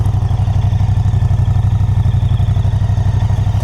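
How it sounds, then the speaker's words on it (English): A Moto Guzzi Stelvio V-twin motorcycle on a cold start, settling into a steady, loud, close idle with an even pulsing exhaust beat and faint injector ticking, with no talking over it. "So let's get the first cold start on this bike. And listen to that. I hear injectors and I hear V-twin exhaust."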